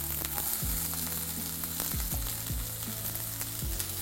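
Dry red chillies and garlic fry hard on a high flame, a dense, close sizzle with repeated scraping stirs that land every second or so.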